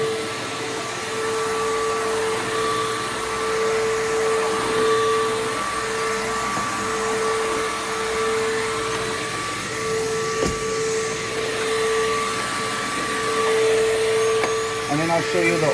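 Up close, a PowerForce vacuum cleaner runs continuously while cleaning between chairs, a steady motor whine and airflow hiss with a single sharp knock partway through and small rattles near the end.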